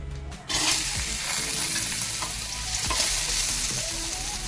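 Chopped cucumber pieces tipped into a hot pan, a brief clatter followed by a loud, steady sizzle of frying close by, with occasional stirring scrapes.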